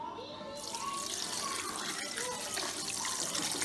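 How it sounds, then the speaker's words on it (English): Water poured into a cooking pot of egusi melon stew with salted turkey, a steady splashing and trickling stream that continues throughout at moderate, close level. "I'm going to add water."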